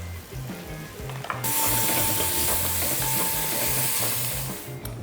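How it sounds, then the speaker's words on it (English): A coconut oil tempering with curry leaves and mustard seeds sizzles loudly once chopped onions go in, a bright steady hiss after a quieter start, with light stirring and background music, no talk. "We have this lovely tempering happening inside, into which I'm adding 2 finely chopped onions here"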